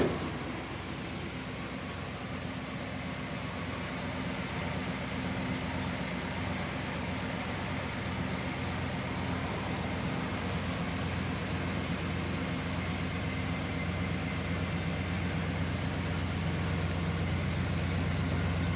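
A 1964 Ford Galaxie XL 500 with a 390 V8 idles steadily through its exhaust, a continuous low engine rumble with a smooth, even tone held for the whole stretch, close by and with no talk.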